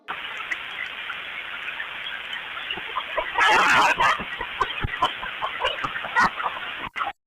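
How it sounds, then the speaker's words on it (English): A chicken clucks repeatedly in short bursts, rising into a loud, harsh squawk midway before settling back into steady clucking, close and clear. "Listen to this chicken EVP."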